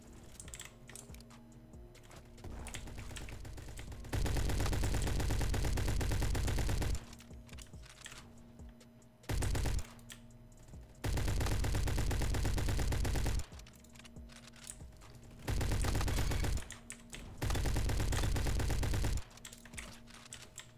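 Bursts of automatic gunfire in Roblox Jailbreak, several sustained rattling volleys lasting two to three seconds each, separated by quieter game ambience with keyboard clatter underneath.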